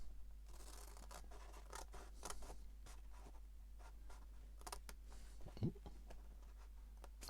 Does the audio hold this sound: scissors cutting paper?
yes